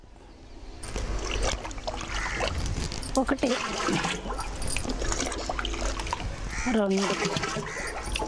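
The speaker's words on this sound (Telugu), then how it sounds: "తర్వాత దీంట్లో 10 లీటర్ల ఆవు మూత్రం కలుపుకోవాలి." Cow urine pours from a container into a 200-litre drum of water on a farm, making a sustained splashing, gurgling stream close by, while people talk over it.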